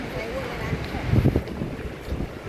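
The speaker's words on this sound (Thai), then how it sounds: "ก็เหมือนฝนจะตกหรือเปล่าลมพัด" Wind blows outdoors as rain seems about to fall, making a low, rumbling buffet against the microphone that swells in gusts around the middle.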